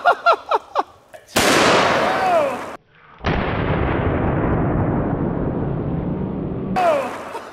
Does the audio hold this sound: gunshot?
yes